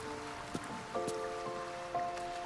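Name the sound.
rain in the video game Baldur's Gate 3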